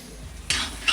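Vermicelli being stirred into sugar syrup in a pan, a quiet bubbling hiss that jumps to a louder, brighter sizzle and scrape halfway through, with another burst at the end, close and wordless.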